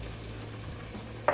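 Fresh ingredients with added seasoning cooking in a pan, a steady close sizzle of frying that holds evenly throughout, with a brief stirring knock at the very end and no voices.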